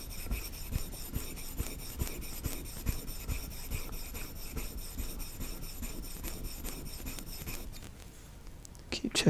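A steel chisel is sharpened on a sharpening stone, making a steady, close rasping scrape in rhythmic back-and-forth strokes that continue for most of the stretch before easing off.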